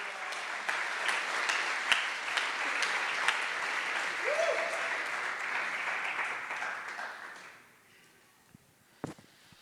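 A church congregation claps steadily for about eight seconds, moderately close, with a brief voice in the middle before the applause fades to near silence and a few final knocks.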